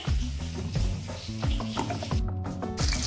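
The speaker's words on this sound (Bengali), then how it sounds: "পেঁয়াজগুলো আমার ভাজা হয়ে গেছে" Onions frying in hot oil give a steady, close sizzle throughout, with repeated stirring scrapes and spatula strokes in the pan and a brief dip in the crackle partway through.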